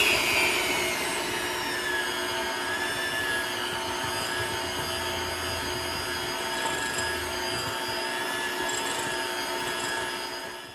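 KitchenAid stand mixer beating thick frosting for cherry limeade cupcakes, a loud steady motor whine with high harmonic tones, running continuously and fading slightly at the end.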